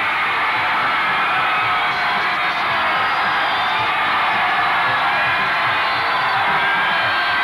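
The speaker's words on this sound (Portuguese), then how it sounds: "primeiros aplausos para a curiosidade de Itapeva" Loud crowd at a televised city-versus-city contest, the Itapeva supporters, roaring with cheers, whoops and shouts in a continuous dense mass, with clapping blended in.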